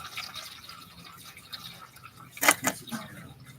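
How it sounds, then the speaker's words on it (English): Water drains and drips out of the engine of a 1970 Dodge Super Bee, faint trickling and splatter with a brief louder splash midway in an otherwise quiet garage. "But yeah, it's quite a bit of water coming out."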